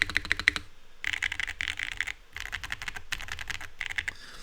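Close, crisp keystrokes on a Wuque Studios Tiffany Freya Ultra mechanical keyboard with thick keycaps, typed in quick bursts separated by brief pauses, with no voices.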